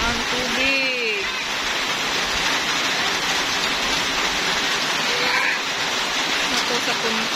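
Steady heavy rain and rushing floodwater pour loudly through a flooded neighborhood during Typhoon Agaton, a continuous wash of noise with a few faint voices and calls rising over it.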